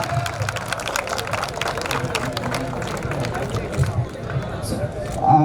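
A crowd applauds a cinematography minister at a film song launch event held at a college in Kakinada. The clapping is a steady, mid-distance patter with general hubbub and a voice talking over it.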